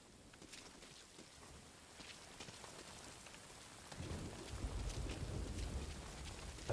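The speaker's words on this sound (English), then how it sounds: "That rain just won't let up." Heavy rain in Metal Gear Solid V: Ground Zeroes, a constant hiss of drops on surfaces that swells louder and deeper partway through, with a rumbling low undertone like distant thunder.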